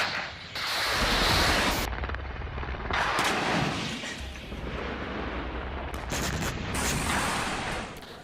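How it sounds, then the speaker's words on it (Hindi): Heavy bursts of gunfire and booming explosions from a Ukrainian helicopter attack on Russian front lines, loud and continuous with sharp cracks and rumbling blasts throughout. "ये यूक्रेन का हेलीकॉप्टर है जो वहां पर रशियन फ्रंट लाइंस को कैसे टारगेट कर रहा है"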